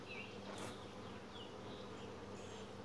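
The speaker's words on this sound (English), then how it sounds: "there's a lot of bees on here" Honey bees crowding over drawn-out comb in a hive during an inspection, a steady close buzzing hum that holds evenly throughout with no talk.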